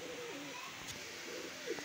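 Breeder pigeons at a Lahore pigeon seller's coo softly in short, rolling phrases, repeated twice over a faint background hiss.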